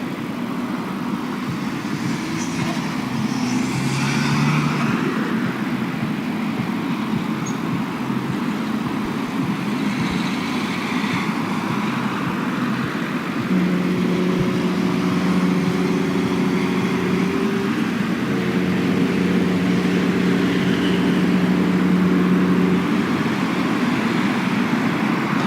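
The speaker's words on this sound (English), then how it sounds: "There's a lot of traffic noise whenever I want to use the outside microphone." Steady road traffic rumble at Southampton port, with engines idling and heavy haulage vehicles droning close by; a sustained low tonal hum joins midway and holds to the end, with no speech over it.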